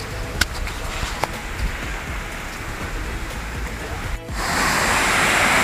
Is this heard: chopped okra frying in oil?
no